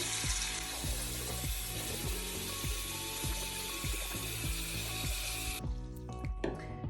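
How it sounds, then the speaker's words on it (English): Water runs from a tap into a bathroom sink to fill it with lukewarm water, a steady loud gush that continues nearly the whole time before cutting off, followed by a few small clatters. "you're just going to fill up your sink with lukewarm water"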